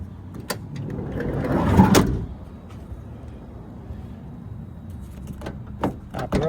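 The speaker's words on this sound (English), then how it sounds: "Door opens. Door shuts." A Honda Odyssey rear sliding door, 1999-2004 model, rolls along its track and then thuds shut, with a few clicks and knocks around it, heard up close outside the van.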